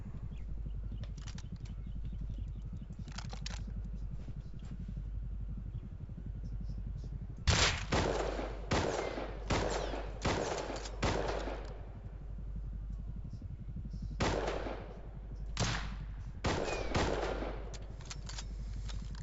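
Sniper rifle shots ring out in the survival game Rust, a run of loud, sharp reports fired in quick succession over steady low in-game ambience, with a quieter stretch of distant shots beforehand.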